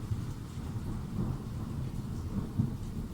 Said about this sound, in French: maintenant il pleut, il y a de l'orage, c'est génial